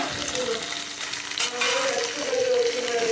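Fish and tomato frying in a pan, a steady dense sizzle with crackling and faint stirring throughout, close and loud with no voices over it.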